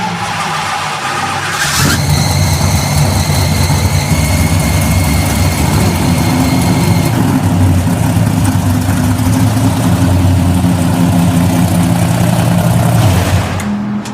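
A rebuilt V8 in a 1969 Pontiac Firebird fires up and runs loud and close, holding a rough, steady idle with slight revs, and no voices over it.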